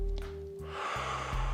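A long, soft breath exhaled during a relaxation exercise, a breathy rush rising over a low sustained background drone that steps down in pitch.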